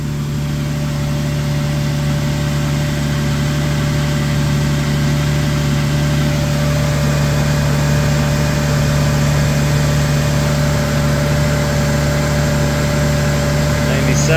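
An engine held at about 1600 RPM, warmed to around 175 degrees and cooled off a hose, running with a steady, unchanging hum and whine for the whole stretch, loud and close.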